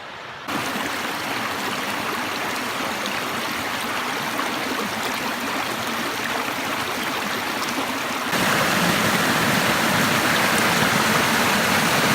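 Continuous rushing roar of falling water, loud and steady, swelling brighter and fuller partway through as if moving closer.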